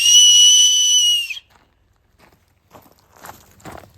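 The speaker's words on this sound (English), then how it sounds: "I'll make a nice whistle out of this." Shrill, steady whistle blown through an acorn cap held in cupped hands on a Los Angeles waterfall hike. It holds loud for over a second, then cuts off and gives way to soft footsteps on a trail.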